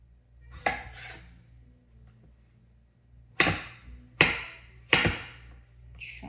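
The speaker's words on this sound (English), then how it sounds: "Chop it up." A strawberry chopped on a non-toxic cutting board, with a couple of knife taps early on, then three sharp, close, separate knife strikes against the board.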